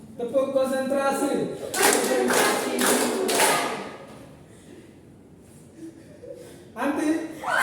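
A classroom group performs a concentration clapping rhythm, a short cluster of sharp claps between stretches of a voice speaking, followed by quiet and then more talk.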